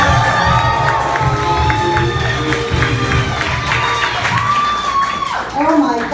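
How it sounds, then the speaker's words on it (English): A comedy club audience cheers, whoops and applauds loudly for a Filipino female stand-up comedian as she takes the stage. The crowd noise is continuous and close, with shouted voices mixed into the clapping. "Please clap it up"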